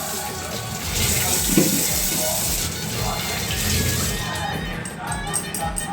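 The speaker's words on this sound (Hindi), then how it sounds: "आलू ला धो देता हूँ और कुकर में डाल देता हूँ" Potatoes being rinsed under a running kitchen tap in a Chhattisgarh home, a steady, close splashing stream of water that carries on throughout with no talking over it.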